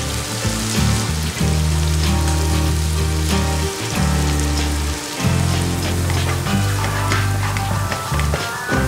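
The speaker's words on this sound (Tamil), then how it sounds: "மஞ்சத்தூள், மிளகாய்த்தூள், மல்லித்தூள் மூணு சேர்த்து நல்லா வதக்கிக்கலாம்." Ginger garlic paste with turmeric, chilli and coriander powders sautés in a pan for a brinjal gravy, a dense crackling sizzle heard close, with steady background music throughout.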